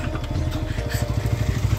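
A motor vehicle engine runs steadily nearby in a flooded rural area, a continuous low rumbling drone with a faint rattling pulse throughout.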